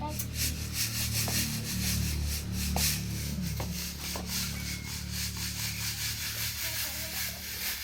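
Glass dishes being scrubbed by hand in a home kitchen, a continuous rough rubbing and scraping with a few sharp clinks, close and fairly loud throughout.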